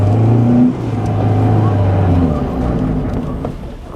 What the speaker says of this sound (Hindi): तो यहाँ से ऊपर डालूँगा मैं जिम्नी को, देखते हैं कितना 4x4 का दम है गाड़ी का